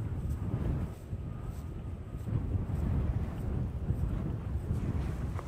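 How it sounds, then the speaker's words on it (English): Strong winter wind sweeps across a barren, frozen plateau in the Scottish Highlands as a steady, rumbling roar that buffets the microphone and swells slightly midway. "This is where the wind was strongest."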